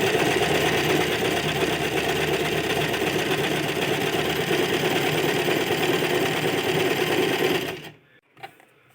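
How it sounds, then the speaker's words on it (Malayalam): An Usha Janome sewing machine runs continuously, stitching a thick embroidery stitch with a loud, dense mechanical whir for several seconds before stopping abruptly, followed by a faint click. "ഇതിട്ടിട്ട് സ്റ്റിച്ച് ചെയ്യുമ്പോൾ വരുന്ന സ്റ്റിച്ച് നമുക്ക് എംബ്രോയ്ഡറിക്ക് യൂസ് ചെയ്യാം."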